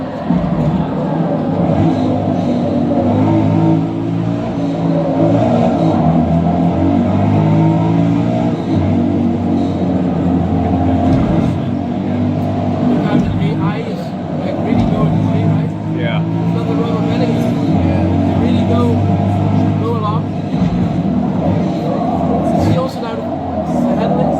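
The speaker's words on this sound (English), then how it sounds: "we'll let the engine do the talking" A BMW M5 engine in the racing game Forza Motorsport 8 drones loudly and steadily throughout, its pitch rising and falling with the throttle through a lap, with no break in the sound.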